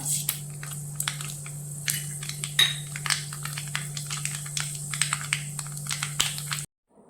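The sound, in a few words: mustard seeds spluttering in hot oil in a pan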